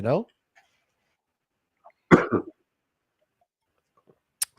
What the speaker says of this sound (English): when you listen to that cough, it almost sounds like somebody who is a smoker